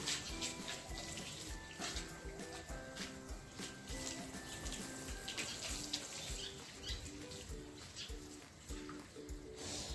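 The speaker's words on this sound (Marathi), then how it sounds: "पाणी सांडत आहे ते बघ तिकडे पाणी सांडत आहे" Water splashes and trickles continuously at low volume, a faint, busy patter with a few soft chirps mixed in and no speech.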